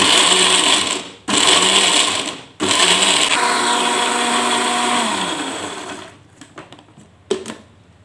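An electric blender grinds spice paste with water for Indonesian ketupat sayur, a loud close whirring roar cut by two brief pauses, then winding down into a few clicks and knocks.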